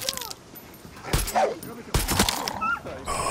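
A dog in the video game Far Cry 6 yips and barks in short bursts amid game sounds, loud and close, with a couple of whimpering cries between.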